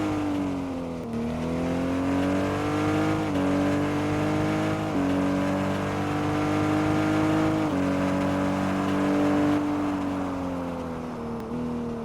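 A car in the Car Dealership 2 video game drives and accelerates, its steady engine drone rising and dipping in pitch as it revs and shifts, loud and continuous throughout.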